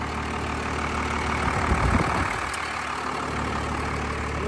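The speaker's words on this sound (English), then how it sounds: "see the AC compressor is turning on and off" A truck engine idles with a steady low rumble and its AC compressor cycling, sounding close and continuous, with a brief shift in the engine tone partway through.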